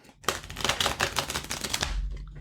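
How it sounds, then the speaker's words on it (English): Playing cards being riffle-shuffled, with a fast run of crisp, overlapping flicks and taps lasting about a second and a half, close by and fairly loud, then settling into a soft low thud. "I think we got them shuffled"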